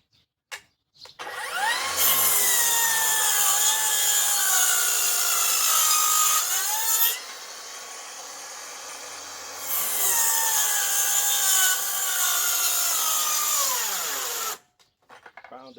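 A Harbor Freight Hercules rear-handle circular saw rips through wood with a loud, whining blade, running for about six seconds, pausing briefly as it slows, then cutting again for several more seconds before stopping.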